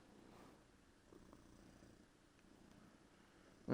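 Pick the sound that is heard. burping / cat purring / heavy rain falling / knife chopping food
cat purring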